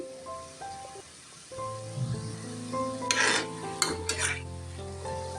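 Puffed-rice and milk-powder kalojam sweets fry in a pan, with a soft sizzle and a few bursts of utensil clatter midway, set over a sustained tonal background.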